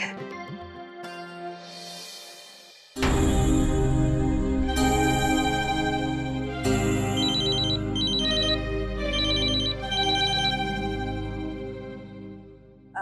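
A phone rings with a loud melodic ringtone that plays steadily for about ten seconds after a soft musical lead-in, heard alone without talk.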